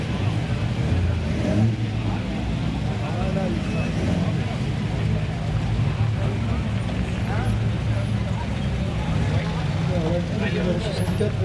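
A Mercedes in the historic Monte-Carlo Rally passes through Bar-sur-Aube, a steady, loud engine roar with road noise that continues throughout without a distinct peak, and people talk over it.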